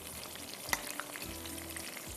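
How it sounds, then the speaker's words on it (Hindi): Minced meat fries with tomatoes and spices over a high flame, a constant close sizzle broken by a sharp scrape of a utensil and a few lighter stirring clicks. "ये टमाटर के साथ तेज़ आग पर ये भून जाएगा, गल भी जाएगा कीमा"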